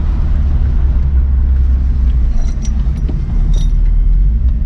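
A VW MK3 VR6 turbo wagon drives along with a loud, steady engine rumble, joined midway by light metallic jingling.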